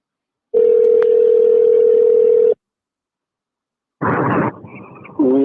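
A steady telephone tone sounds for about two seconds and then stops. After a pause, a louder burst of line noise and tones follows, like a call connecting.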